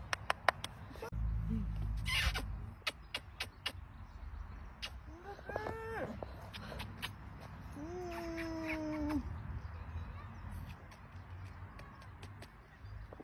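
A cat at riding stables gives two drawn-out, wavering meows, faint and somewhat distant, over a steady outdoor background with scattered clicks and knocks and a low rumble early on.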